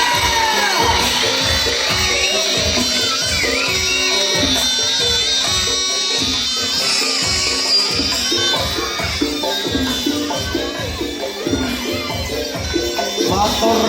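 Dense, rhythmic crowd clapping with cheering and children's shouts at a night barongan performance by Putro Turonggo Kusumo in Gajah, Demak, loud and steady throughout, with a voice calling out over it.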